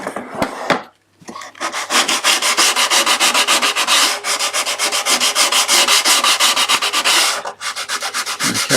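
Hand sanding a wooden box made on a dovetail jig, with steady rhythmic back-and-forth strokes of abrasive on wood, loud and close, briefly pausing near the start and again just before the end.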